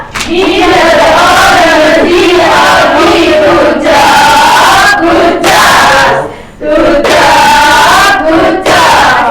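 Schoolchildren in a microteaching classroom chant the tepuk gujok call-and-response in loud unison, their voices carried in a sung rhythmic pattern with short pauses between phrases, and a brief dip to near silence partway before the group chanting resumes.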